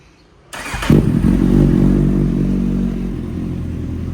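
A 2015 Kawasaki Z800 motorcycle engine cranks and fires up, then settles into a loud, steady idle with a rough rumbling clatter, close by.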